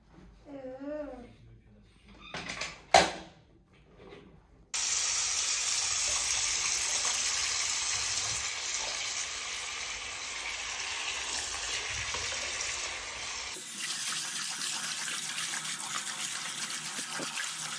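A tap runs steadily and loudly for about nine seconds while washing up, its gushing water cutting in abruptly after a few brief voice sounds and knocks, then ending sharply.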